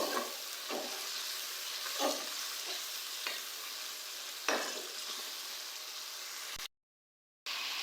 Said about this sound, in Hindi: मसाले को हम लोग अच्छी तरह से भूनेंगे।